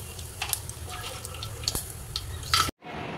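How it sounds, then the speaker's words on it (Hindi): Mustard seeds, cumin and asafoetida sizzle in hot oil in a pan, giving a close, crackling hiss with scattered pops that stops abruptly near the end. "अब बघार के लिए हम एक पैन में तेल गरम कर लेंगे, उसमें डालेंगे हम राई, जीरा,"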